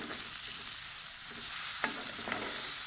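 Ginger garlic gravy with turmeric frying in a pan, a dense hissing sizzle throughout with a couple of brief spatula scrapes near the end, close and steady, no speech.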